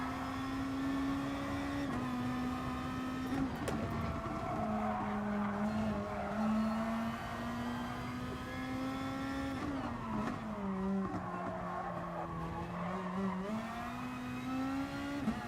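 A race car in the GT Sport video game drones continuously through corners, its engine pitch dipping and rising with gear changes, with tire squeal mixed in throughout and no talking.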